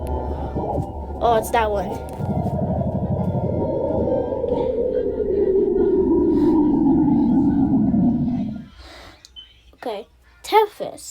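A space sound recording of Saturn's moon Enceladus plays as a loud, sustained low drone, like a whale call, that slowly falls in pitch for about seven seconds and then cuts off. Someone speaks briefly before and after it.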